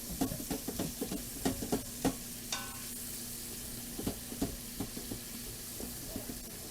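Mushrooms and bacon sautéing and browning in a pot of soup, a steady soft sizzle with repeated sharp scrapes and clinks of a utensil against the pot, no voices.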